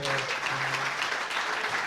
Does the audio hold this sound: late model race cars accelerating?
no